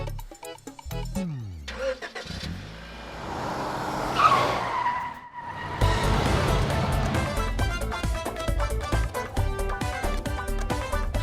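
Car skidding with tires squealing: an engine revs up, then a long screeching skid rises and cuts off, followed by driving with music-like tonal sound over the engine.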